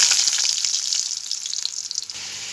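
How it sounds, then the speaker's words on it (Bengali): Potato pieces frying in hot oil for a fish-roe kofta dish, a dense bright crackling sizzle throughout, close up and steady, with no talking. "এটাকে এখন আমি তেলের মধ্যে দিয়ে ভেজে নেব"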